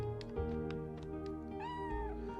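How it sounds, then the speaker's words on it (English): A cat meows several times in the video game Chrono Cross, a string of short, close, game-rendered cries with a longer drawn-out call near the end, heard alone against a steady background tone. "And there's a cat instead of a little chihuahua"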